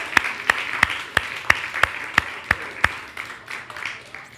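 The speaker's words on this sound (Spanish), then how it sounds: "Si quiere aplaudirlo, lo podemos aplaudir." A church congregation at a Spanish-language worship service claps together in a crisp, steady beat, about three claps per second, for roughly nine strong claps before the rhythm loosens and fades.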